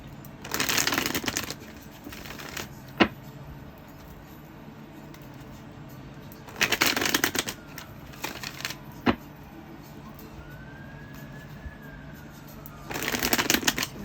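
Tarot cards are shuffled in three distinct bursts of riffling and flapping, separated by quiet pauses with a few sharp taps in between.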